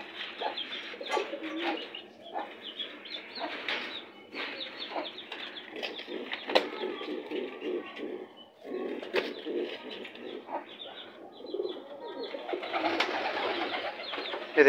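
Fantail pigeons coo and burble continuously at close range on a rooftop, with several birds overlapping, joined by clucking from an Aseel hen and brief chick-like calls.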